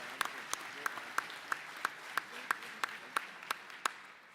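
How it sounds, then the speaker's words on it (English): Steady applause from a crowd at a Bear Pit session with a provincial cabinet and Premier Moe, with sharp individual claps standing out at an even rhythm over a dense wash of clapping. "I'm taking that applause for myself."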